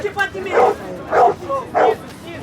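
A small dog barks three times in a steady rhythm beside the commentators at a hardcore-rules boxing bout on the water, each yap fairly close against a constant murmur of background noise.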